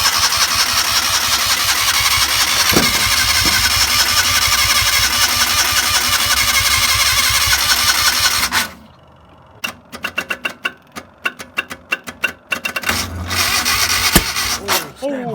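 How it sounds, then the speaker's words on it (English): A Joyner Sand Spider 650cc engine with a timing issue cranks and sputters for several seconds, cuts out, then fires off a series of sharp pops and a loud backfire before running again, with people talking nearby. "It's just a backfire"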